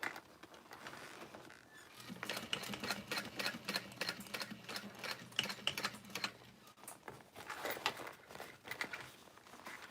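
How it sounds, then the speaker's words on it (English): A sewing machine stitches across the top panel of a small Snow Drop bag in a steady, rapid run lasting several seconds, with a faint hum beneath and scattered ticking and handling noises before and after. "And then you want to make sure that you're sewing over that nice top panel."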